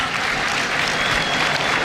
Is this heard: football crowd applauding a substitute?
yes